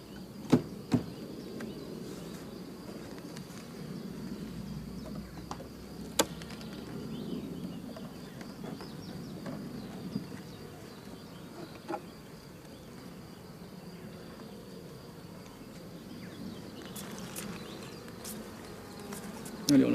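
Honeybees buzzing around hive supers during a spring honey harvest, a faint continuous hum with a few sharp knocks and clicks from handling the frames.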